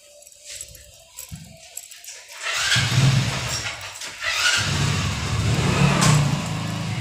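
A car engine runs and revs close by as a vehicle is driven in, with faint rattling earlier and a low steady rumble building after a quiet start.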